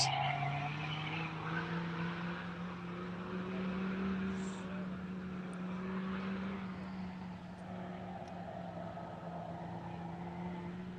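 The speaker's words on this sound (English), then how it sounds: "I can hear a car approaching the finish line." A rally car at a closed-road rally event runs toward the finish line, its engine a steady sustained drone that builds and holds, heard from a distance across open ground with no talking.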